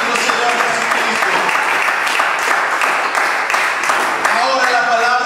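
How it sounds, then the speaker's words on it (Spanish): Loud, sustained applause from a church congregation honoring Jesus Christ, many hands clapping together, with voices and some musical tones rising through it. "Den este fuerte aplauso a nuestro Señor Jesucristo."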